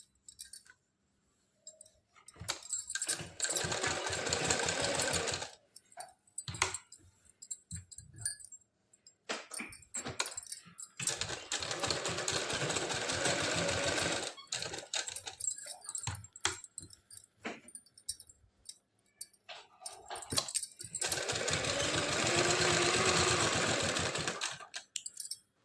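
A sewing machine stitching a salwar runs in three long bursts of steady, close mechanical whirring. Short quiet gaps and scattered clicks separate the bursts, and no speech is heard.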